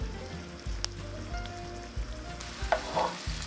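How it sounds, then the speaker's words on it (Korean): Sliced garlic fries in oil and sizzles and crackles steadily in a hot tilted pan over high heat, with occasional louder pops and stirring scrapes over low kitchen hum. "팬을 한쪽으로 기울여 불이 세게 맞닿도록 해서 튀기듯이 해주세요"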